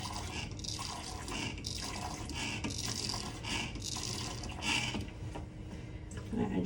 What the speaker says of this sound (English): I want to fill it to where the instruments are completely covered with water